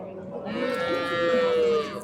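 A cow at the Qarshi livestock market gives one long, drawn-out moo close by, rising over a low murmur of the crowded market.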